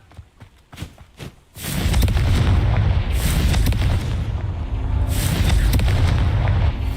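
A Confringo blasting spell in Hogwarts Legacy goes off with a loud, close explosion after a few soft taps, followed by a long rumbling roar that swells again near the end.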